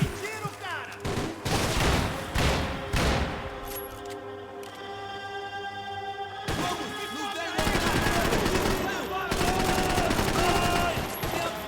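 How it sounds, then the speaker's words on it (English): Sustained automatic gunfire from a held-down trigger in Max Payne 3 rattles out in dense loud bursts, a short lull midway before the firing resumes and continues to the end. "I'm holding down the firing button, by the way"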